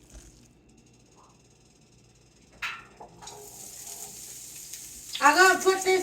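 Food hits vegetable oil in a frying pan over low heat and sizzles up loudly in the last second, after a few seconds of quiet kitchen handling and clatter.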